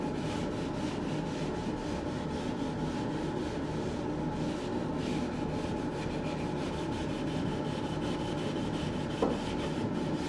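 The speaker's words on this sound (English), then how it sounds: "So now you just put a little dab on there and you just lightly rub." Wax is lightly rubbed onto a wooden furniture finish, making a soft, continuous hushed rubbing and brushing texture, faint and steady, with one small tap near the end.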